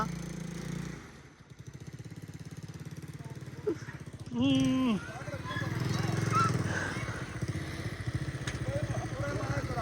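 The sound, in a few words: overloaded rickshaw engine straining to climb onto road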